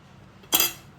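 A single short crunch with a soft scrape as a knife presses down through a crisp bread cutlet, cutting it in half, brief and close in a quiet kitchen.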